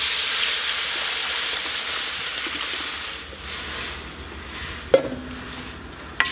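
Tamarind, tomato and coriander water for pepper rasam pours into a hot pan with steady broadband sizzling and hissing throughout, ending in a few sharp clatters near the close.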